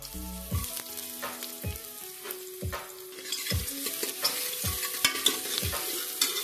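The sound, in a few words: onion frying and being stirred in pan for dal palak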